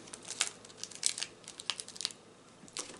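A chip bag packet for a hottest-chip challenge is torn open by hand, giving a quiet series of sharp crinkling and ripping bursts spread unevenly over a few seconds, close and without talk.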